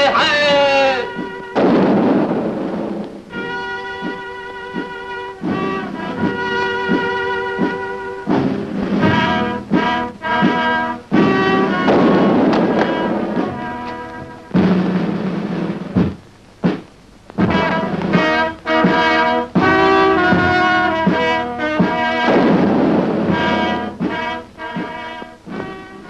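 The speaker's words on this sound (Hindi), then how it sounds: "आपकी सलामती की तोपें दागी जा रही हैं" Ceremonial cannons fire a royal salute in the 1958 Hindi film Lala Rukh, with repeated booming blasts mixed into loud, continuous orchestral music.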